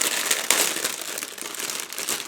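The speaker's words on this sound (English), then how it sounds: "Next we have some parts in the plastic bag. Just give me a second to open it" Close, crinkly rustling of a plastic bag of scale model tank parts as it is handled and pulled open, with a few sharper crackles.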